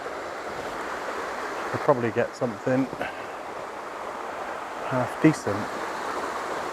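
Water cascades over rocks in small falls, a steady rushing wash of noise that runs the whole time while someone talks over it.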